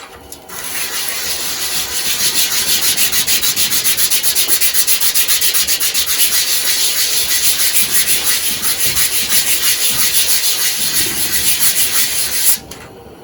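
Continuous loud abrasive sanding on the sides of a ring made from pallet wood, a close, steady rubbing hiss lasting nearly the whole stretch before cutting off near the end.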